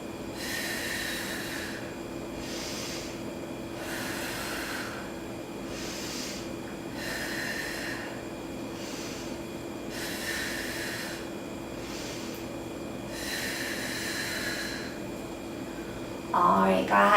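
Slow, deep breaths during a yoga hip stretch, five or six long broad inhale-exhale swells spaced evenly a few seconds apart over a steady low hum, with a brief clatter at the very end.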